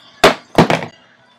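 Walls smash apart in the video game Ball Rider: two sharp, crunching impacts in quick succession, the second with a brief rattling tail, loud against near silence.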